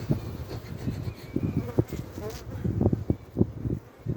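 Honeybees buzz busily at close range around a hive, a dense droning hum with sharp bursts as insects dart past, loud and continuous.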